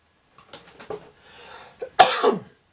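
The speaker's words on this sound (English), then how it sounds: "Still have the cough." A short burst of faint shuffling noises, then one loud, harsh cough up close, trailing off with a rasp.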